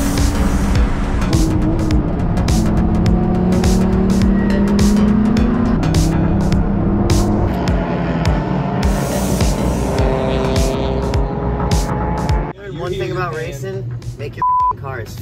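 A race car drives at a 24 Hours of Lemons endurance race, its engine loud and droning with shifting pitch and passing roars, recorded close with wind and road noise, ending in a brief change in tone.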